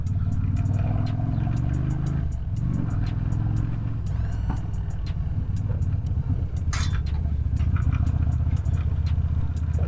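A 2001 Yamaha Dragstar 250 cruiser motorcycle being ridden through the gears: a close, steady engine note that rises and dips with each gear change, under continuous wind rush, with no talk.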